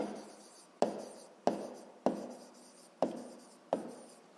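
Chalk or marker strikes a classroom board during a sixth-grade math lesson, five sharp taps about every 0.6 to 0.7 seconds, each followed by a brief fading scrape, quiet and close with no speech.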